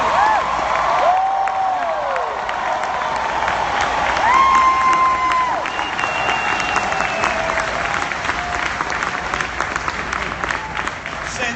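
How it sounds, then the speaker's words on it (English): A large homecoming crowd claps and cheers loudly and steadily, with scattered whoops and whistles rising above the continuous applause. "Somebody clap your hands"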